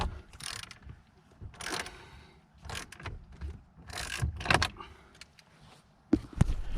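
A bolt being removed from the steering column of a 2015 Jeep Wrangler JKU, heard as a series of close, rapid ratcheting bursts separated by short pauses, with one sharp clunk near the end.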